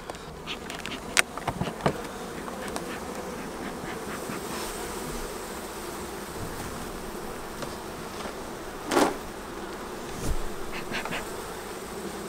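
Honeybees buzz in a steady, moderately quiet hum inside an opened poly hive, with occasional louder passes of individual bees flying close and a few light clicks and knocks from handling.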